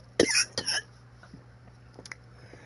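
A couple of sharp coughs come close together near the mic, followed by quieter breathing and faint throat sounds.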